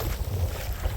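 An old diesel engine on a cable ferry that carries boats and cars on the Little Wicomico gives a steady low rumble, with wind and water noise washing over it.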